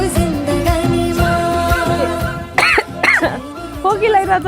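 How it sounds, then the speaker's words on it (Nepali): A nervous woman at a Nepali mehendi ceremony coughs and clears her throat a few times, with voices and music carrying on around her. "खोकी लागिरहेछ"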